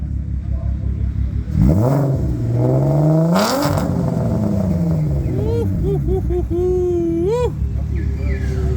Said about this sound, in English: rev hom, laat ons hoor